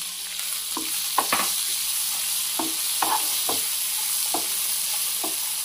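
Mixed vegetables fry in a pan for white sauce pasta, producing a continuous hissing sizzle punctuated by regular spatula clacks and stirring scrapes, close and clear.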